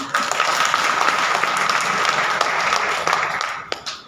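Dense, loud applause from an audience at a BJP district meeting in India fills the whole stretch, steady and crowd-wide before tapering slightly at the end.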